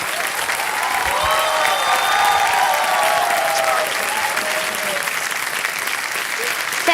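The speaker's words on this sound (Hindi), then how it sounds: "तालियां बजाएं इनके लिए।" Applause from a studio audience at a contest show, steady dense clapping across the whole stretch with faint musical tones underneath.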